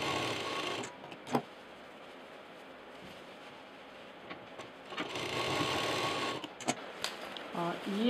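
A sewing machine stitches pieces of a bag together in a steady run close by, while someone speaks in Hindi over it.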